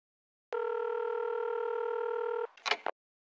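A telephone tone sounds when phoning a department store: a steady, clear tone holds for about two seconds and then cuts off, followed by a brief rustle or click.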